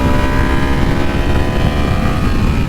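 A Kawasaki Z250 motorcycle engine held at 8000 rpm in fourth gear at high road speed, giving a loud, steady, dense drone that stays constant throughout with no voices.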